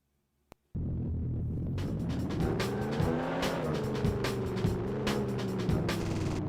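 A car in the video game 007 Racing starts abruptly after a brief click, then drives with a loud steady engine drone that rises and falls in pitch, with tire noise and small bumps along the way.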